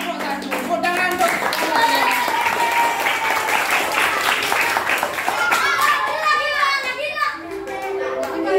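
A classroom of children applauds group winners of a quiz, loud energetic clapping mixed with excited kids' voices and shouting throughout, lively and close.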